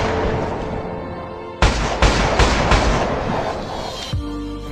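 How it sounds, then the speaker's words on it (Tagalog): Loud gunshots crack out as a sound effect, a burst of four or five sharp blasts in quick succession followed by a final report, each decaying into a rumbling echo over a low background drone. "isang nakakagimbal na putok ng baril ang bumasag sa kanilang katahimikan"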